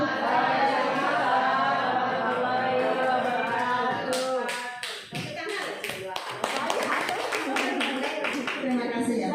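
Hand clapping from a school assembly audience in Indonesia starts about halfway through, a burst of scattered close claps over a speaking voice that continues throughout.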